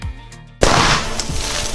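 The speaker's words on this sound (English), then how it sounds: "what I got was like a full-on powerful explosion" A sudden, powerful explosion shatters glass during an experiment, bursting out of quiet low rumble as a sharp loud crack followed by a broad, noisy wash of scattering debris that lingers for about a second.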